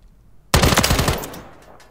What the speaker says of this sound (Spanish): Voy a disparar así al tío del frente.